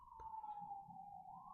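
Police car siren sounding in the background during a live stream, a steady wailing tone that holds and slowly shifts pitch, moderately loud, with low rumbling noise underneath.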